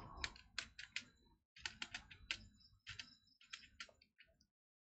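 Keys clack on a computer keyboard in quick clustered bursts with short pauses between words, crisp and close in an otherwise quiet room, with no voice over it.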